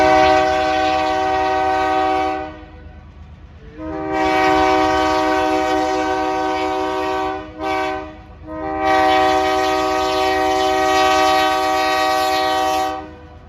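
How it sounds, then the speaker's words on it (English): Freight train rolling past during a railroad chase, its horn blaring loud and near in long sustained blasts with brief gaps between them, over a steady rumble of the cars. "There's a train."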